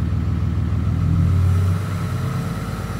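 A 6.7L Cummins diesel truck engine idles nearby, its low throb swelling briefly louder on fast idle before easing back to a steady, rougher idle.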